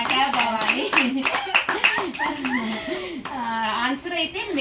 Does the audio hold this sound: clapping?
yes